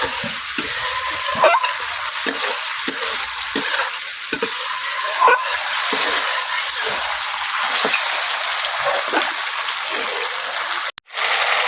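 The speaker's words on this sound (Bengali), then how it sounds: "দিয়ে এটাকে আমি খুব ভালো করে কষিয়ে নেব।" Ground tomato paste with salt and spices is stir-fried in oil, giving a loud, continuous sizzle. Repeated scraping strokes of the stirring spoon run through it, and a brief break comes near the end.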